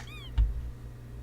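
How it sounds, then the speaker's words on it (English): Cat in the video game Death and Taxes gives one short, clear meow, close and alone, followed by a soft thump. "Meow, the cat emits and lets fall another hammer blow onto the toy"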